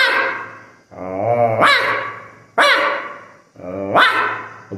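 A man imitates a dog fight with his voice, producing loud close barks and growly yelps in four rough bursts, each rising into a sharp bark.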